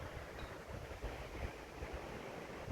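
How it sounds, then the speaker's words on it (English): The River Devon flows past a golf course in Scotland, producing a constant faint rush of water blended with gusty wind noise. No one speaks and the sound stays steady throughout. "That's the River Devon again."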